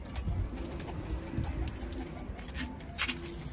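Soft cooing of pigeons in a coop over a steady outdoor rumble, with a few faint higher chirps drifting in and out.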